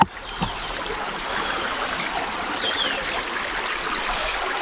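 Creek water at Anderson's Creek in Warrandyte, Victoria, flows in a steady broadband rush with a soft trickling texture, close and continuous with no talk over it.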